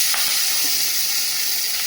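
Chopped onions hit hot oil in a wok with five-spice seasoning, a loud, close, continuous sizzling hiss with no gaps and no talk.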